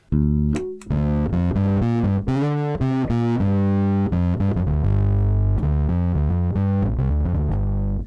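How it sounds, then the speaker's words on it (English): Fuzzy, heavily distorted Fender bass guitar notes through a bass Big Muff fuzz pedal ring out loud and sustained, played as a short riff with thick buzzing tone. "the big muff pedal, the bass version, which is basically like a sort of fuzzy thing, fuzzy sort of distortion"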